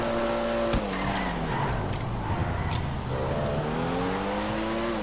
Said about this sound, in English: Whoa, nice drift.